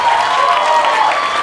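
Loud, dense audience applause greeting a band's lead singer at a live comedy stage show, a steady wash of clapping and crowd noise throughout.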